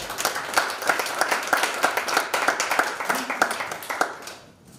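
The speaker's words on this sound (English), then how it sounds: "So a big round of applause for everyone." An audience at an innovation competition grand finale in Prague claps loudly in a close, rhythmic burst of hand claps, then tapers off and fades out near the end.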